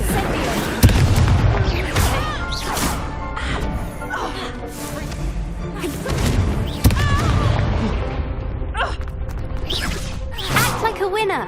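Confringo fire spells burst in repeated booming explosions amid clashing combat effects in the video game Hogwarts Legacy, loud and dense, with a player's voice talking over the action.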